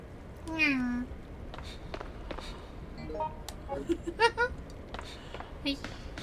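One short, clear cat meow from Resident Evil Outbreak File #2 comes early, followed by quiet talking and soft game noises in the background.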